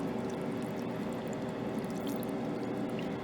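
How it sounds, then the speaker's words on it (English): Liquid containing a SCOBY, the vinegar mother, is poured over apples in a steady continuous stream, a close, even wash of splashing without breaks and with no talk. "So I'm going to pour this over top of my apples."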